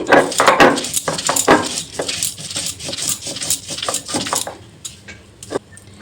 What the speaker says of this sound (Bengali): দেখুন আমি শিলনোড়ায় বেটে নিচ্ছি।